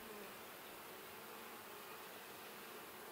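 Honeybees buzz around an open hive during an inspection, a dense, continuous hum that stays steady and close with no voices.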